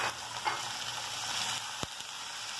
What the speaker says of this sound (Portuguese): Vou jogar a carne aqui dentro, tá? Ó. Vou deixar ela fritar.